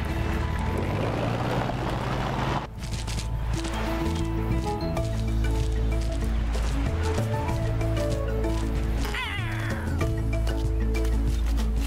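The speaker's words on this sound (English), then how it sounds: "This kitten is quick." A kitten meows repeatedly in the PAW Patrol Open World: Jungle Rescue video game, loud and close over busy game music and effects.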